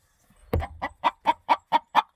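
Chickens in a coop give a quick cluck, then a steady run of six loud, evenly spaced clucks at close range, with no speech.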